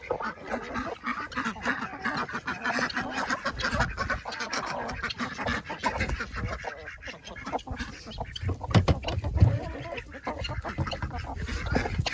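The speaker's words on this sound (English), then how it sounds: "Cluck, cluck, cluck, cluck, cluck, cluck, cluck. Clucking along." A flock of poultry calling outdoors, overlapping clucks and honking squawks in an irregular, busy chorus at moderate distance.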